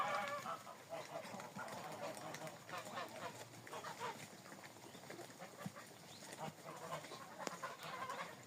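Several Muscovy ducks and ducklings quack and honk in a busy, overlapping chorus close by, against a faint outdoor background.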